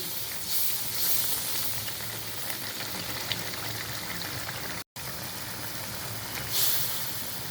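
Eggs dropped into a thick, reduced egg-poach bhuna gravy, giving a steady frying hiss with bubbling that swells briefly near the start and end, close and alone with no talking.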